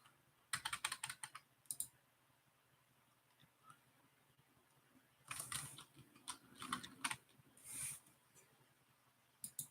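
Computer keyboard typing in quiet, clustered bursts of clicks separated by pauses, close and soft, with no voices.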